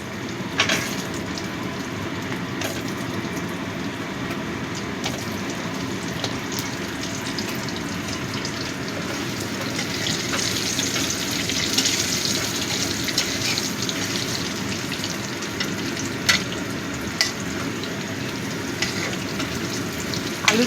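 Potatoes frying in hot oil after whole spices have been tempered make a steady, watery hiss and sizzle up close, with a few sharper pops and clicks of the pan later on, and no talk.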